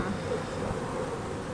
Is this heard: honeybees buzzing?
yes